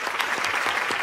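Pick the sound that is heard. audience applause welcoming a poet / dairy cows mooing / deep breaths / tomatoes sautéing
audience applause welcoming a poet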